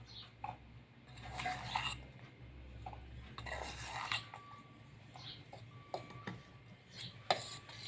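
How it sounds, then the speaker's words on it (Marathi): Soft scraping and clinking as grated jaggery is stirred into crushed peanut filling in a pan, irregular gentle mixing sounds with occasional metallic taps, fairly quiet and close. "तोही थोडा थोडा करत दाण्याच्या कुटामध्ये घालून घ्यायचा आहे आणि फिरवायचा आहे"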